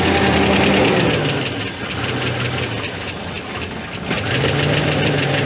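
A car engine idles steadily after being jump-started from a nearly dead Bosch 18-volt cordless drill battery, giving a near, loud rumbling hum with a slight knocking, dipping briefly and then picking up again.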